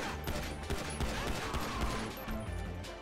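Dense, continuous gunfire fills a GTA Online firefight as overlapping shots and bursts crack steadily through the whole stretch, loud and close with a constant roar underneath.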